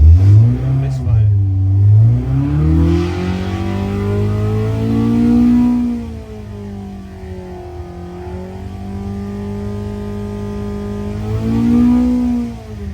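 A car engine on a dyno revs hard and climbs through long sustained pulls, its loud droning tone rising and falling with a slightly uneven edge that hints at a misfire, while voices talk over it.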